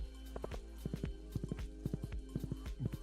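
A horse gallops in the Stardew Valley video game. Quick, rhythmic hoof clip-clops repeat steadily in close, even bursts throughout.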